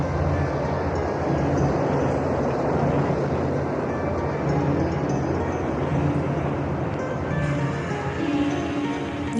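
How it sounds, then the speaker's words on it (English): A driverless train nears through a tunnel, a continuous low rumble and mechanical drone that holds steady at moderate level, with a faint voice briefly over it. "is that a train coming?"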